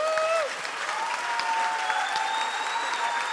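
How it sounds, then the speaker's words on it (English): Audience applause at an award presentation honouring a family who supported thousands of families with cancer, a sustained clatter of hands mixed with cheering voices. "A huge round of applause for Jean and David"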